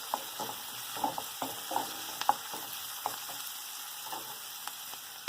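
Sliced large onion with curry leaves and whole spices such as cinnamon and clove frying in hot oil for a vegetable kurma, giving a steady close sizzle broken by sharp utensil clicks and scrapes as the pan is stirred.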